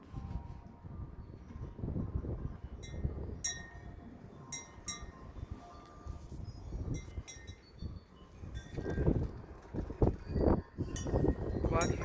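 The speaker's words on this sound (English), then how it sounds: "Well, I can hear my wind chimes up there." Wind chimes jangle faintly in the background in sharp scattered clinks, heard over heavy low rumbling wind noise during a wet, extremely windy day.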